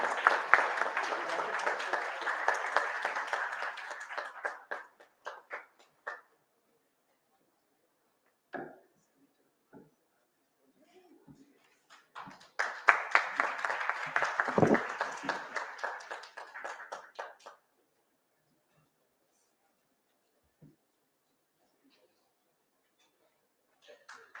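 Audience at an Independence Day cultural event in Assam breaking into applause, two bursts of crowd clapping with a quiet gap of scattered claps and brief voices between them.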